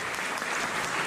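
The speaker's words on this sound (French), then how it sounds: "Et donc, on peut l'applaudir, oui." An audience applauds at the opening night of the 2021 Révélation festival, a brief, dense, steady patter of clapping from a crowd.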